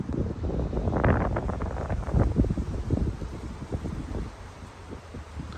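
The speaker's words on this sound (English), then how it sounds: "Windy with a chill in the air" Gusty wind buffeting the microphone, rumbling in uneven bursts with no voices.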